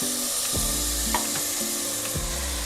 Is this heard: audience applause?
no